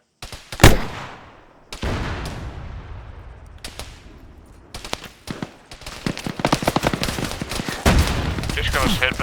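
Gunfire volley opens on a countdown command during a tactical shooter training session: one sharp shot, then a lull with background activity, then dense bursts of rapid automatic fire and repeated reports building to the end, with voices mixed in.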